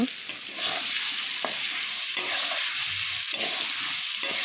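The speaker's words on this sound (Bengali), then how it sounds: "আলুগুলোকে কেটে দিয়ে ভাজা বসানো হয়ে গেল" Cut potatoes frying in oil, with a steady close sizzle throughout and occasional stirring scrapes and light knocks against the pan.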